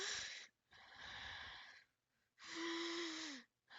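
A human voice imitates the labored breathing of a COPD patient: wheezy, effortful inhales and exhales, about three long breaths with brief pauses, close and clear, with no talking.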